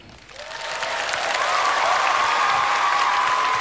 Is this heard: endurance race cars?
no